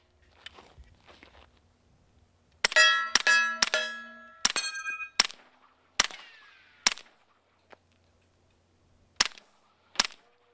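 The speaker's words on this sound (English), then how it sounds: "I'm very excited to shoot this thing, especially because we got the Bowers Verse on the front here" A Scorpion Evo fitted with a Bowers Verse suppressor fires a handful of sharp, irregularly spaced shots, several followed by bright metallic ringing, with quiet gaps and faint shuffling between them.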